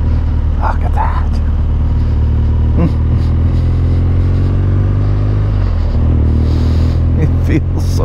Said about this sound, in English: It feels so good out here riding this scrambler.